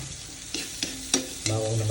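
Garlic hits a hot frying pan during pancit adobo cooking, giving a steady sizzle with a few sharp stirring clinks and a louder burst of frying near the end, close and alone.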